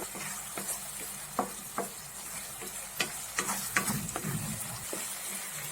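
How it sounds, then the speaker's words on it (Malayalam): Onions and tomatoes sauté in a pan under a constant sizzle, broken by frequent sharp clicks and scrapes of a spoon stirring against the metal, close and fairly loud with no talking. "ഇതിലെ ഈ സബോളയും തക്കാളിയും ഒക്കെ നന്നായിട്ട് വഴന്നു വരുന്നത് വരെ നമുക്കിത് ഇളക്കി കൊടുക്കാം"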